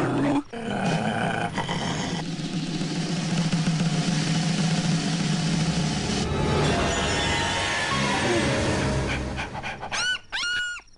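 A man imitates a dog with his voice in a comedy scene, making rapid panting breaths, growls and yelping barks up close. The sounds are loud and busy, ending in a short burst of sharper yelps.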